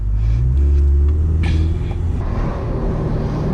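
A C8 Corvette or Lexus LC500 with loud exhaust on a roll run, giving a heavy close engine rumble that surges and then eases into a steadier drone.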